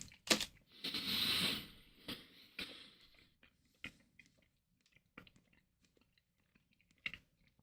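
Caramel pecan turtle candy is chewed close to the mic, opening with a loud crunchy bite and then scattered softer chewing and smacking sounds that fade into near silence.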